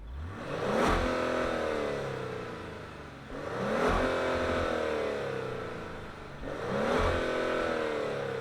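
A 2025 Genesis GV80 luxury midsize SUV with a twin-turbo V6 fires up and pulls away, its engine swelling in three repeated rising surges, loud and close, with no talk over it.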